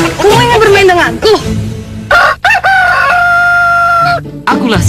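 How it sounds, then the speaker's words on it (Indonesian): A rooster crows loudly and close in a stretched, wavering call, with voices speaking around it in an Indonesian TV drama scene. "Akulah si jago yang perkasa"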